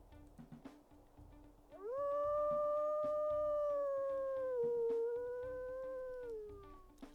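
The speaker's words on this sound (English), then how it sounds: "We'll also go ahead and we'll listen to her howls here." A female wolf lets out a single long, higher-pitched howl that rises quickly, holds steady with a slight dip and then fades, against a faint background of small ticks and rustles.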